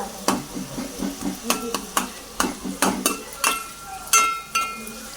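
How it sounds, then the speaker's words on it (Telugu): Small tomato pieces frying in a pan with curry leaves for tomato rice, a soft sizzle under rhythmic scraping stirs of a spoon against the pan, close and regular, with a few metallic clinks. "మనకి చిన్న ముక్కలుగా కట్ చేసుకున్న టమాటా ముక్కలు ఇలా దోరగా వేగేలా"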